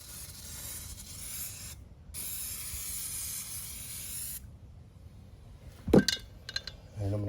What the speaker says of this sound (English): I'm gonna spray off I haven't touched it, but I'm gonna make sure it's clean